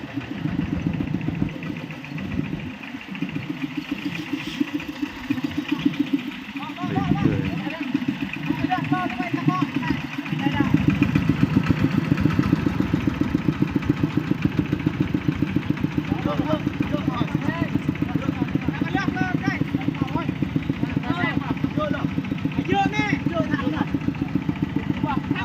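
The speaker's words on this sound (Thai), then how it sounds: "เปลี่ยนคันใหม่พี่น้องเอ้ยรถไถ" A walking tractor's small engine idles with a steady low chugging rumble throughout, while someone talks over it at times.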